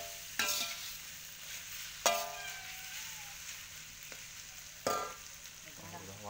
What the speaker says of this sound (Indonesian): nih golosornya langsung ditumpahkan saja, teman-teman. Diaduk-aduk sampai merata.